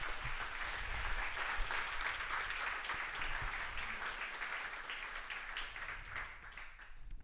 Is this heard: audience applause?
yes